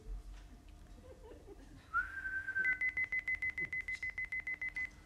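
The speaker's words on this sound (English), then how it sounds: "Whistle. Go on. Whistle." A high, steady whistle tone appears, then breaks into a rapid series of evenly pulsed beeps, fairly close and clear over a quiet background.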